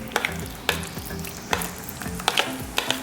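A spoon stirs garlic and onion powder through a meat sauce mix in a pan, making soft scraping sweeps with light clicks against the pan over a low sizzle, close by and with no voices.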